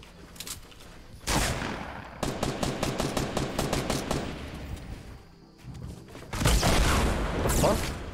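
Gunfire in the video game Fortnite: bursts of rapid automatic shots, a long rattling volley and a later loud burst, close and dense, with faint player voices in the background.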